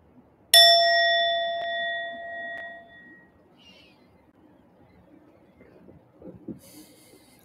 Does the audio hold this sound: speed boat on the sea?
no